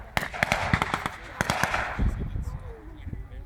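Rifle and machine-gun blanks firing at an outdoor Second World War battle re-enactment with tanks, sharp cracks in a rapid irregular volley followed by scattered shots, with people talking nearby.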